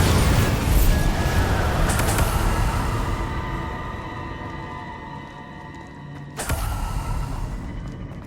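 The Bombarda blast spell in Hogwarts Legacy gives a booming burst with a sweeping whoosh that slowly fades. A second sharp impact comes near the end, amid game sounds.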